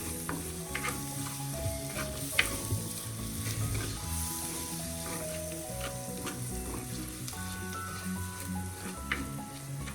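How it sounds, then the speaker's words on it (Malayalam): Curry masala for a Kerala-style big eye snapper fish curry fries and is stirred in a pan. A steady, close sizzle runs throughout, broken by the soft scrape and tap of the spoon. "എല്ലാം കൂടെ ഒരുമിച്ച് മിക്സ് ചെയ്യാം."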